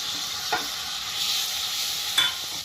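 Crushed fresh dates being stirred in hot ghee for a halwa: a continuous soft sizzle with two brief scraping strokes of a spoon against the pan, close and clear with no talk.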